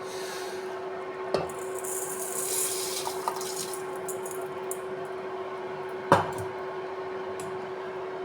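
Rice tipped into water in a pot and stirred, a soft scraping and rubbing with a couple of sharp knocks against the pot, close and fairly quiet over a low steady hum.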